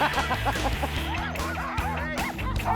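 Sled dogs in snowy Alaska bark and yip in a busy, overlapping chorus, loud and close, with several animals calling continuously over a steady background.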